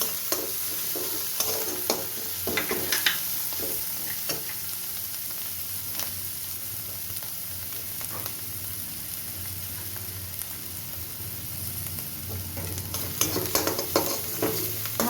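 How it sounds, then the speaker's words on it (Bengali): Garlic frying in a pan among onions on a gas stove over medium flame: a soft continuous sizzle with repeated scraping and clinking stirs, quiet and close, no talk. "রসুনটা ভাজা ভাজা হয়ে গেছে"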